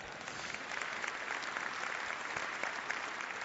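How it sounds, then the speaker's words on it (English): An audience applauding at a talk on global warming in St. Paul, dense sustained clapping from a crowd, steady and fairly loud for the whole stretch. "Give him a round of applause for that one."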